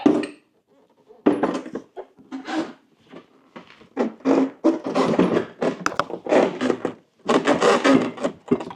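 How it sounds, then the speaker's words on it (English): A rubber-bottomed saddlebag being mounted on a Harley Road Glide motorcycle makes close, irregular squeaks, rubs and soft thumps in a series of short bursts. "It's got a rubberized bottom. That's why I hear that squeaking sound."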